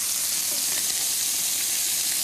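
Ingredients for Persian duck rice fry in a pan, browning until crisp, giving a close, steady sizzle and hiss with no voices over it.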